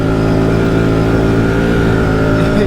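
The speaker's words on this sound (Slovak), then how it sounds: "Ja mám plný plyn, on má plný plyn" A Can-Am Outlander G3 LTD ATV engine runs at full throttle in mud and rain, a loud, steady, close drone with a constant buzzing pitch and no pauses.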